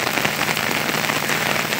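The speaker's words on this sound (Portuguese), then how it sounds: "Chovendo forte, viu? As enxurradas descendo aí" Heavy rain pouring down at a ferry port on the São Francisco River, a loud, dense and steady hiss of drops hitting surfaces, with no talk over it.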